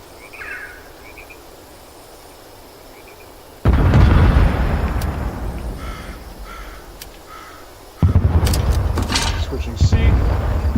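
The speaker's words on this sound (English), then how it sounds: "Load mortar fire." Mortar fire in Hell Let Loose, Vietnam setting: two heavy booming blasts land several seconds apart, each a sudden loud thump that fades slowly. Quiet ambience and distant bird calls come before the first blast.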